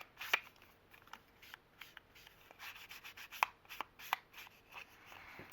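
Scissors snipping through a paper belly band on a handmade folio, a series of close, quiet cutting and rubbing strokes in an irregular rhythm with no talking.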